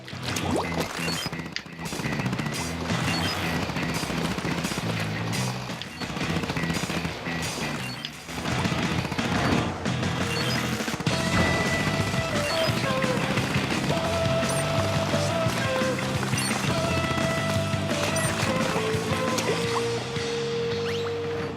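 Gatling-type weapon in the Splatoon video game, rapid sustained firing with splattering ink bursts amid game music and effects, loud and continuous with short breaks.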